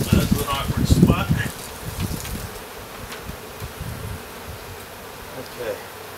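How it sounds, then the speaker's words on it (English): Agitated honey bees buzz loudly and close, with a dense swarm drone that eases into a steadier hum; faint rustling underneath. "just cut up a couple bees so this one pissed off bees here trying to sting"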